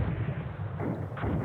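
Artillery fire in the wargame Command Ops 2, a steady stream of low rumbling blasts and dull booms rolling continuously at moderate level with no talk over it.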